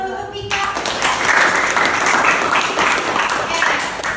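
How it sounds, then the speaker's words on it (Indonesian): Audience applauding after a quiz answer at a classroom event, a brief tone at the start giving way to a dense, close burst of clapping that holds steady to the end. "Tepuk tangan dulu buat kita."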